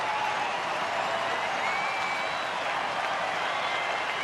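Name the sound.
baseball crowd cheering and applauding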